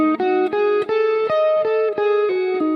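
A clean electric guitar plays a quick single-string minor pentatonic phrase with a flat five, about eight picked notes moving up and back down in a steady rhythm, close and clear.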